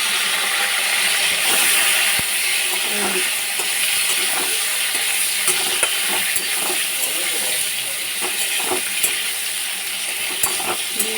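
Sliced ridge gourd frying in a pan, a steady hiss and sizzle with scattered light clicks of a spoon, continuous and close, without talk.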